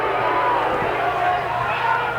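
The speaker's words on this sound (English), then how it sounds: "Have a listen to the St Kilda crowd." A large St Kilda Australian football crowd at a 1989 match against North Melbourne rumbles and jeers in a dense, continuous, displeased murmur of distant massed voices.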